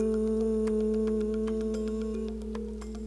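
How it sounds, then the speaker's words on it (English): A group sings the HU chant, a sustained single-tone vocal drone held steadily at moderate volume, with faint background clicks and rustles. "we call it a Hugh song or a Hugh chant"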